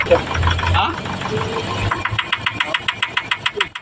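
Diesel engine of a Hyundai Grand Starex idling with a steady, rhythmic metallic knock that becomes distinct in the second half, preceded by rumbling and some muffled voices; the engine misfires on starting and blows white smoke.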